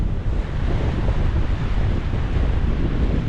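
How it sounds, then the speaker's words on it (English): Steady, loud wind roars across the Fleetwood seashore, heavy microphone buffeting blending with crashing surf in a continuous, unbroken rush, with nobody talking. "that wind's cutting right through me"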